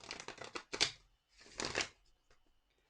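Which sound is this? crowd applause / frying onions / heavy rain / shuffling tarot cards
shuffling tarot cards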